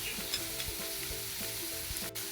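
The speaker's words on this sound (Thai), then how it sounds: "ผัดคลุกเคล้าให้เข้ากัน ใช้ไฟแรงในการผัด" Shrimp stir-fried with oyster sauce, fish sauce and sugar over high heat sizzles steadily in a pan, with soft rhythmic scrapes of stirring close by.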